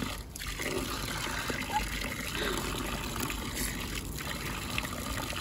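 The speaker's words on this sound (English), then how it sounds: "I'm having to fill up the water from quite a distance here" Water from a garden hose filling a container, a steady rushing trickle that continues throughout at close range, with faint background noise.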